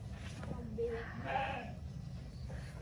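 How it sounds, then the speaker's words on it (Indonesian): Sheep bleat in a sheep pen at The Farm in Shipland, Bogor, with a short call in the middle under ongoing background noise, while people talk nearby. "Di kandang domba sama The Farm, Shipland, kandang domba."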